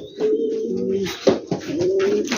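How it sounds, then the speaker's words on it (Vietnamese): King and Mondain pigeons coo repeatedly at close range after being released, their low, throaty, rolling calls overlapping in steady bursts with no talk. "Lại giờ mình đem bồ câu vô mình thả ra nha mọi người."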